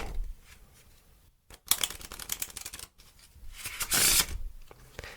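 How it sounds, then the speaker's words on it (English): A deck of playing cards is shuffled close to the microphone for ASMR card magic, with crisp riffling bursts, a short pause and a louder final riffle, and no talking. "So let's give the deck a good shuffle."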